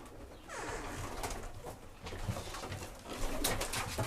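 Flying competition tippler pigeons coo inside their loft, soft repeated throaty calls overlapping at close range with a little rustling in the background.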